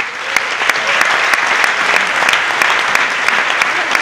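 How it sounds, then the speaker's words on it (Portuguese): Audience at a live comedy show applauding steadily, a dense, loud wash of clapping with sharp individual claps standing out, sustained without pause and with no talk over it. "Uma salva de palmas para o Pedro!"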